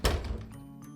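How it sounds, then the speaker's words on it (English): A front door slammed shut in a children's story: a single dull, heavy thunk at the start that quickly decays into quiet. "she snatched him inside and shut the front door. Bang!"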